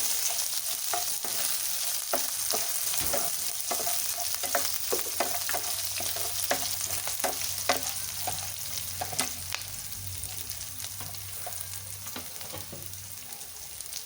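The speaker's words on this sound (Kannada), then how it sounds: "ಇದೆಲ್ಲ ಫ್ರೈ ಮಾಡ್ಕೊಳ್ಳೋಣ" Ingredients for heasru bele palak pappu (green gram dal with spinach) frying and being stirred in a pan: a continuous sizzle with frequent sharp scrapes and clicks of the spoon against the pan, close and steady throughout.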